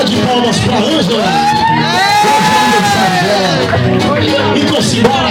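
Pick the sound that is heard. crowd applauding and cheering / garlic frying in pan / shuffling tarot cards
crowd applauding and cheering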